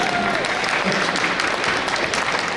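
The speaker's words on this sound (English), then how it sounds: "everybody give yourselves a round of applause, please" A festival audience claps in steady, dense applause that holds evenly through the whole stretch, with a faint voice briefly audible underneath.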